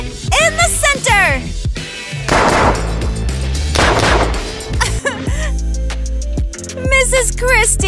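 Gunshots are fired at targets during shooting training in two loud, harsh bursts of fire, while people shout and talk before and after them.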